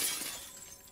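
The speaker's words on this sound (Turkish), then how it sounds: "cam kırma sesi çok hoşuma gidiyor" Glass shattering in the video game The Last of Us Part II, a bright crash whose tinkling debris fades over about a second, heard alone with no talk.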